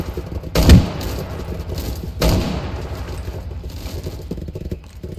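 Roblox gunfire cracks out in two sharp, loud bursts a couple of seconds apart, each followed by a rattling tail, over a busy background of game noise.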